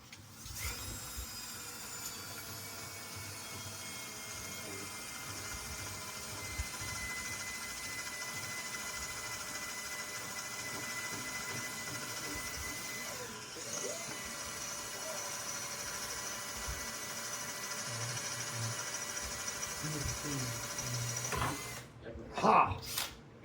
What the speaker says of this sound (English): drill the bastard out.